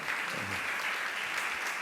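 Steady applause from a gathered audience at a Jain religious discourse, a continuous even wash of clapping at moderate distance with no pauses.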